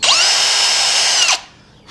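A power drill bores through a wooden trellis piece, its high motor whine holding steady and loud for over a second before cutting off abruptly.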